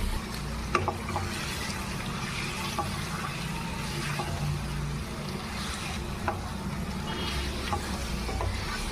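Chicken added to a hot pan of curry base with turmeric, giving a steady close frying sizzle throughout with occasional spoon knocks and stirring scrapes, no talking.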